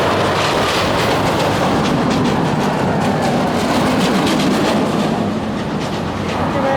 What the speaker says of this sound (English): But I hear roller coasters.